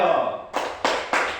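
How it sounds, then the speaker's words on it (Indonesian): Classroom applause for a student group breaks out after a brief stretch of other sound, coming in several quick bursts of many hands clapping, close and lively. "mari kita beri tepuk tangan untuk kelompok"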